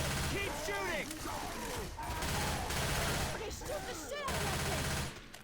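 Dense, nearly nonstop video game gunfire as a player shoots at a tank, with rapid bursts and crashes layered over music and effects, loud and close, and a voice talking over parts of it.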